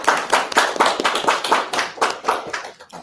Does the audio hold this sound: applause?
yes